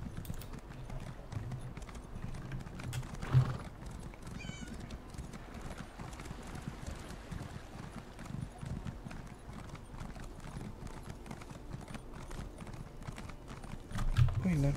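A horse gallops in the Elder Scrolls Online video game, with steady rhythmic clip-clop hoofbeats and an occasional whinny, under quiet talk from a player.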